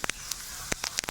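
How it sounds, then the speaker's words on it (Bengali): Whole cumin seeds dropped into hot oil for tempering a fish curry, a close steady hiss with quick crackling pops scattered through a brief moment. "ফোড়নে দেব গোটা জিরে"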